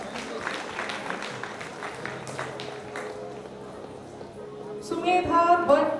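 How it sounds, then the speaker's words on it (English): Graduation ceremony audience at a college in Agartala applauding graduates, scattered clapping at moderate distance that thins out before a louder burst of crowd noise near the end. "Requesting all to kindly appreciate our graduates with a big round of applause."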